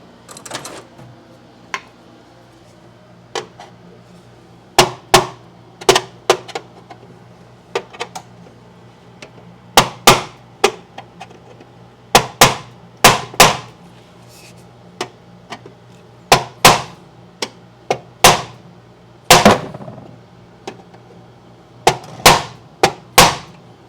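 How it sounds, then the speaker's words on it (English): A hammer drives a screwdriver against a 3/4 inch knockout in a metal electrical box while a new electric dryer outlet is installed, giving a run of sharp, uneven metallic taps, some quick clustered strikes, close and loud with no talking. "let's knock out one of these knockouts with a screwdriver and a hammer"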